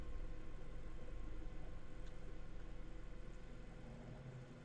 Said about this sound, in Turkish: Beni niye bir canavar araba takip ediyor ki?